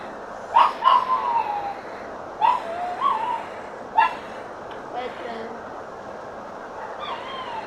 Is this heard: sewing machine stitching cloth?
no